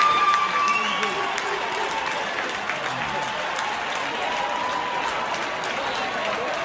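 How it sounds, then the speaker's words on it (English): Poll workers in an election counting room cheer and clap, a dense, steady wash of applause and raised voices that stays loud throughout and eases slightly after the opening seconds. "They're cheering."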